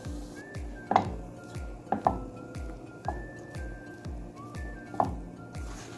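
Potato samosa filling is mixed in a bowl, with repeated soft, squishy thuds and occasional sharp clinks from a spoon striking the bowl, close and moderately quiet.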